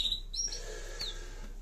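Young canary chicks on a perch giving a few brief, high, thin chirps, faint against a steady low hum.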